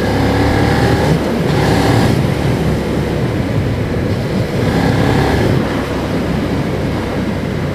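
Suzuki SV650 V-twin motorcycle engine running steadily around 1800 rpm, a dense continuous loud rumble with small swells in intensity, close to the rider and with no talk.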